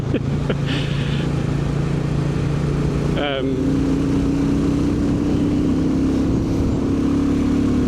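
Royal Enfield Bullet motorcycle accelerating on a dual carriageway, a loud steady engine drone with wind noise and a rising pitch after a brief gear change midway.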